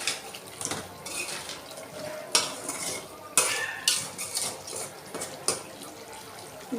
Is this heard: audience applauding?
no